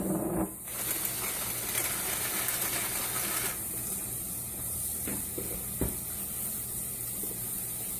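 Shrimp seasoned with salt and pepper sizzling in a hot pan with olive oil and butter, a steady, loud frying hiss with a few faint clinks partway through.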